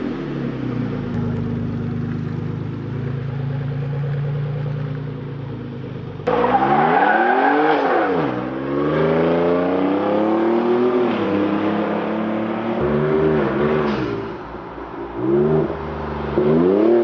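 A straight-piped 2019 Ford Raptor's engine idles with a deep rumble, then revs loudly and repeatedly, its pitch climbing and falling through several throttle blips, close by with no talking.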